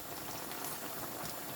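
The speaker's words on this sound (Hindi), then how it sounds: "कुछ ऑयल मैं आपको दिखाऊंगी, मैं डालूँगी इसमें मसाले में।" Hot frying oil from okra and potato sizzling steadily as it goes into the masala, a dense, continuous bubbling hiss close by with no voices.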